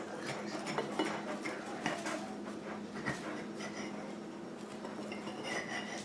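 Knife slicing through peanut butter and bacon toast on a plate, with faint scraping and soft clinks of cutlery against dishware over several seconds amid light kitchen background noise.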